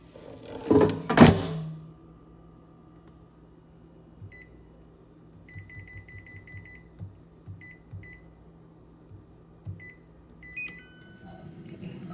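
Microwave oven cooking bacon: a loud clunk of the door at the start, then a low, steady running hum broken by short, high electronic beeps.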